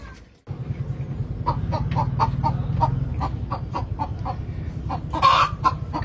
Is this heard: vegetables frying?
no